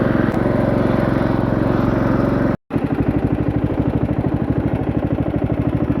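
A race lawn mower built with a heavy deck roars at full throttle close by, a loud, rapid, pulsing engine note that drops out for a split second and then snaps straight back to full power.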